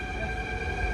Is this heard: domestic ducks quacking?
no